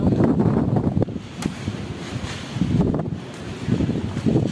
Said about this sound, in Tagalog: nasa lakas na hangin.